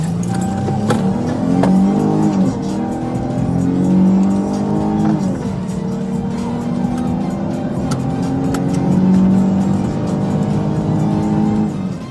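A stolen Ferrari racing through Palm Coast, Florida during a high-speed police chase, its engine loud and close, with rising and falling revs that swell and fade repeatedly.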